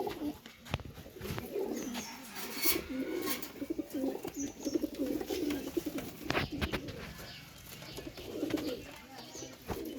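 Pakistani Teddy pigeons coo repeatedly in low, throaty, rolling calls, fairly close, with a faint background hiss and occasional rustling.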